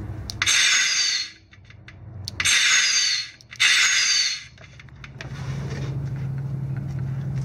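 A switch-triggered simulated turbo device on a car lets out three loud, close hissing bursts of roughly a second each, separated by short pauses. A steady low engine hum then continues underneath.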